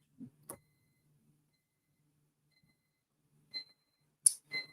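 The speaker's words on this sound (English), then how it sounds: "I hear you, timer." A kitchen timer alarm goes off in a quiet room: a couple of soft knocks, then after a pause short bright beeping bursts, close and clear.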